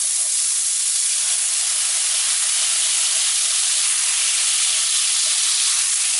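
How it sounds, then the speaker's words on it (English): Beef stock hisses hard as it hits a hot pan after a chuck roast has been seared on high heat, a loud, steady, broadband rush of steam that carries on unbroken throughout. "I'm going to take 4 cups of beef stock, and I'm going to deglaze the pan"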